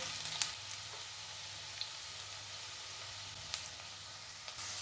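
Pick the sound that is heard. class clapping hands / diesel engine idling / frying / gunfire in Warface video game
frying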